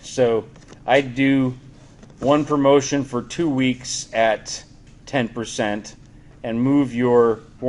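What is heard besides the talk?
No everyday noise stands out behind the speech.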